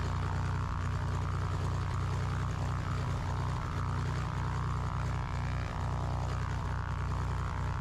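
Small propeller airplane with a freshly overhauled engine during takeoff: a loud, steady engine drone and propeller buzz fill the whole stretch without letting up.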